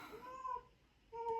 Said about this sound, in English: my cat is screaming her head out to go outside